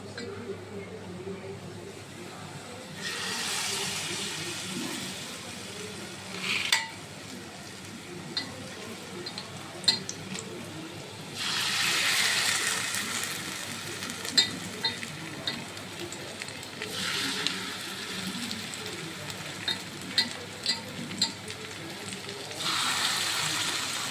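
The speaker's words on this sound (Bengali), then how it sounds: "এখানে শাক ভাজা" Greens frying in a pan in a home kitchen, with bursts of loud sizzling that swell and fade several times over a quieter background of clinks and movement.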